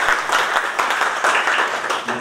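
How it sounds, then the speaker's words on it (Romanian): Dense applause from an audience at a city council meeting in Roman rises steadily for a couple of seconds, with a hint of talk beneath. "încă o dată aplauze pentru cei care"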